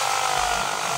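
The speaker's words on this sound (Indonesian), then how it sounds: "jadi ini di bornya menggunakan mata bor diameter 6 mm" An electric drill boring holes with a 6 mm bit while installing a bi-LED headlight on a Yamaha Fazzio, a loud steady whining drone, close and continuous.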